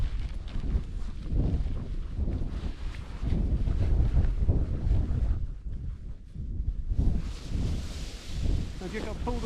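Strong gusty wind buffets the microphone on an open launch site while a paraglider wing is laid out, loud rumbling gusts rising and falling throughout with brief lulls.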